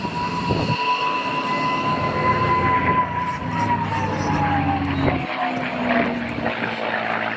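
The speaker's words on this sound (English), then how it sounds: "It's just those two inboard gun barrels. That's all that howling is." A warbird airplane performing at an airshow gives a loud, steady howl from its two inboard gun barrel openings, a sustained whistling tone that slowly falls in pitch over a heavy engine drone.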